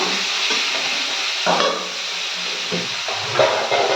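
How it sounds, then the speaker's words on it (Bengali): Prawns fry in a pan with a constant hiss and sizzle, broken by intermittent stirring scrapes and soft clatters at close range, with no one talking. "চিংড়ি মাছটা ভাজছি"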